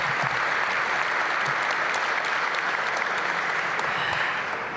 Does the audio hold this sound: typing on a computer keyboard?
no